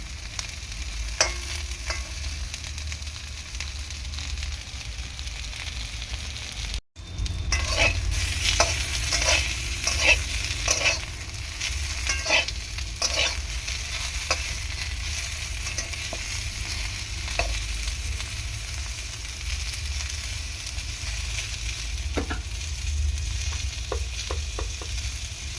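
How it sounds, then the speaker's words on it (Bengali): Eggplant pieces fry in a pan with a steady, continuous sizzle, broken by scattered clicks and scrapes of stirring and a brief dropout early on. "বেগুনগুলো ভালো করে উল্টে দিয়েছি, যাতে খুব সুন্দর করে ভাজা যায়।"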